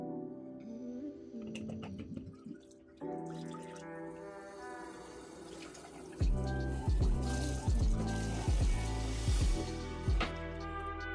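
Tap water runs while the water is changed for plant propagations, a trickle at first and then a heavier splashing fill into a container, with clinks and knocks from handling the glassware.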